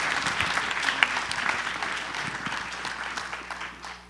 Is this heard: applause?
yes